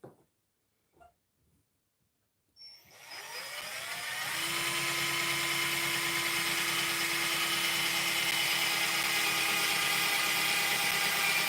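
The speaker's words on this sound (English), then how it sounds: "I'm going to drill" A power drill whirs up after a brief quiet moment and runs steadily at a loud, even pitch without stopping, drilling holes for a woodgas stove.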